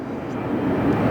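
Heavy jet airliner arriving to land at LAX, a loud close broadband engine roar holding steady through a brief moment with no one talking.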